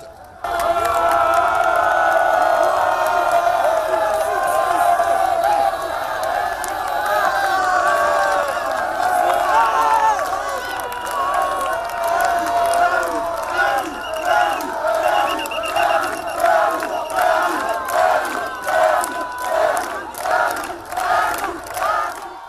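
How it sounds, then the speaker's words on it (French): A tumultuous crowd cheers and shouts along a presidential motorcade route, a loud, sustained roar of many voices with whoops, later breaking into rhythmic chanting and clapping. "Une foule à la fois tumultueuse et envahissante."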